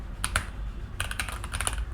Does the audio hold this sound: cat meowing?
no